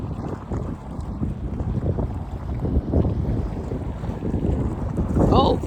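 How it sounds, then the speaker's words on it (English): Strong gusting wind buffets the microphone while water splashes against a small boat out on a bay, a loud, continuous roar with a sharper splash near the end. "The wind is blowing hard so that the water splashes me."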